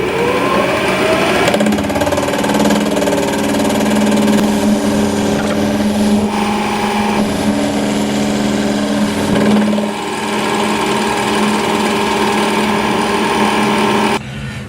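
A compact power hacksaw cuts through metal held loosely in a vise, giving a loud, steady mechanical drone with constant motor whine and a rhythmic rasp that carries on almost unbroken to the end.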